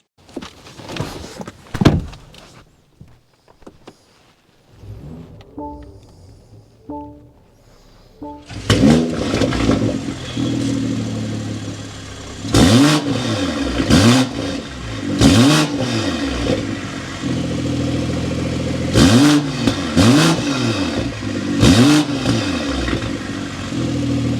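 A 2023 BMW M340i's 3.0-litre twin-scroll turbo six-cylinder starts after some quiet cabin clicks, settling into a deep idle broken by several sharp throttle blips with a rumbling exhaust note.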